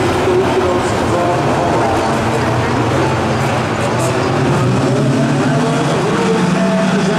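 A pack of race cars at Speedweekend Ter Apel roars off at the start, a loud continuous rumble of many engines blending together, with a commentator talking over the noise.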